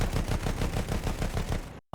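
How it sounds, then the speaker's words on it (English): Rapid machine-gun and cannon fire from a giant airship in a Battlefield game, a dense, loud string of pounding shots that cuts off suddenly into near silence, with one last burst. "it's a giant airship armed with cannons and machine guns"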